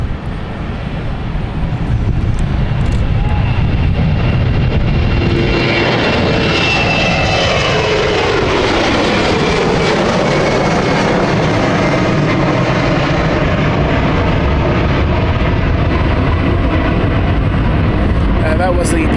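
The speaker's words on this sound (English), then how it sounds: "So we'll just let City Flyer take off." A BA CityFlyer jet takes off at London City Airport with a loud, building engine roar that rises into a sustained, rushing blast and a sweeping pitch shift as it passes close by, with people talking underneath.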